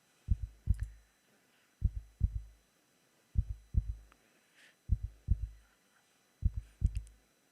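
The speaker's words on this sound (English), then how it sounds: "he could hear his heart pounding" Heartbeat sound effect from Honkai Impact, a loud, close, slow double thump repeated about five times in an even rhythm against near silence.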